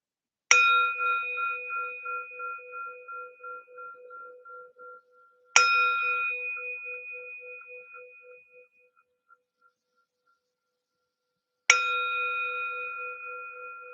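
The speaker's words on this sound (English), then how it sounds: "Bell, and the bow signifies the beginning of our practice." A meditation bell is struck three times at slow, widely spaced intervals to open a sitting practice, each clear ringing tone decaying gradually into silence.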